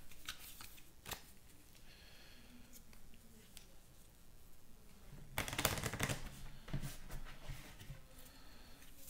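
Deck of cards for a Legendary-style deckbuilding game being shuffled by hand, quiet riffling and sliding bursts with a louder flurry midway, close and otherwise near silent.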